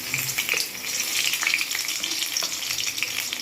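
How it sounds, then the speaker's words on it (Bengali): Bokful (flower) pakoras battered with cornflour and baking soda sizzle in hot oil, a loud, steady frying hiss with bubbly crackles and no voices. "তেল যেহেতু গরম হয়ে গেছে সেহেতু আমি এবার এতে নিয়ে একটা একটা করে এরকম করে ছেড়ে দেবো"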